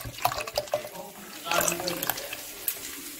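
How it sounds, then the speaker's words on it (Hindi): Milk poured into a pan of carrot gajrala, a steady splashing liquid stream running for a few seconds, close and moderately loud, with a louder surge partway through. "तो आप इसमें दूध डाल दिए।"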